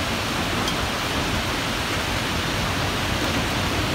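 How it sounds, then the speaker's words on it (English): Rain mixed with hail pours down outdoors in Willoughby Hills, Ohio, a dense, steady hiss of falling drops and pellets that stays constant and loud with no pauses. "It started raining here. There's some more hail."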